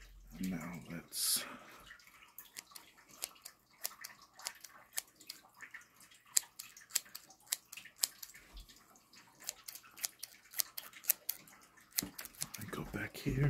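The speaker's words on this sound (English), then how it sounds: "Snip, snip, snip. Snip, snip, snip." Scissors snip hair close by in quick, uneven bursts of sharp clicks, with a brief murmur of voice at the start.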